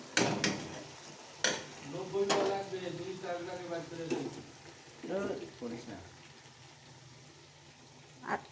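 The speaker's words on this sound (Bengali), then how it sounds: "বাবান এখন চিকেনটা ছেড়ে দিচ্ছে" Chicken pieces go into a hot pan of spiced masala in a home kitchen, bringing a soft sizzle with a few sharp utensil clanks against the pan while people talk nearby.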